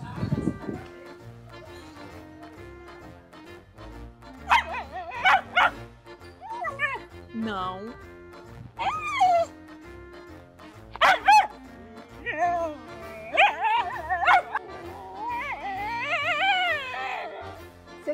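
A dog, a female, barks and yips in short bursts, then whimpers and whines in rising, wavering cries, close by, with people talking intermittently around it.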